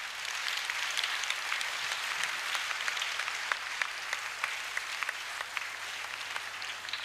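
Steady sustained applause from a church congregation at a national convention in Togo, continuous clapping throughout with no talk over it.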